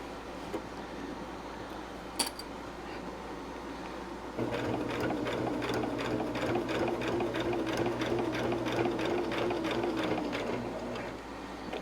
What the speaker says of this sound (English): I'm going to sew it again. Just go right over top of your stitches out a ways.